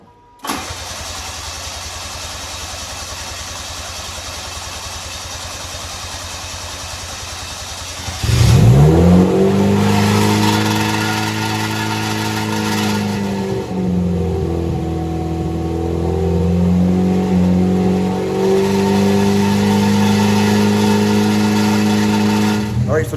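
A Yugo GV car with a carburetor, back on the road after 15 years off it, cranks for several seconds and then fires into a loud running engine. It revs up and down and settles toward a rough idle, heard close by.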